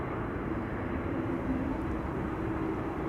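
An Icelandair Boeing 767 taxis at Amsterdam Schiphol, heard as a steady, distant low jet-engine drone with an even rumble and no breaks.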